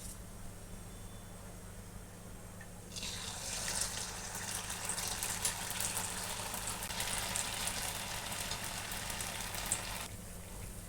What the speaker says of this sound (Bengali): আর ফির একটা একটা করে বড়া আমি ছেড়ে দেবো গরম তেলে।